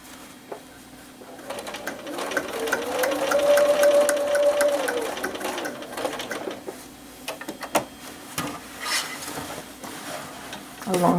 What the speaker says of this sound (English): This time I'm going to sew diagonally from corner to corner.